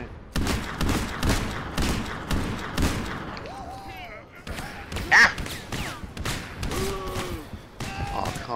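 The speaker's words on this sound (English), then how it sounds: "Gatling gun on me." A Gatling gun fires in a Western-themed video game, quick rhythmic bursts of shots at the start, then scattered thuds and effects with people talking over them.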